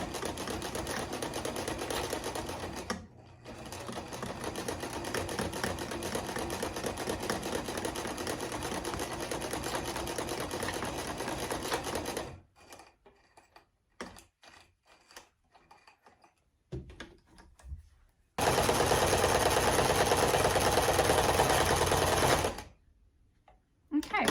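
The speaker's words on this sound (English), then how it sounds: "When I go to sew this, I'm going to follow their stitched line." A sewing machine runs in a long, steady burst of stitching as a dollar store placemat is sewn into a pillow. Shorter start-stop runs follow, then another loud sustained run, all close up.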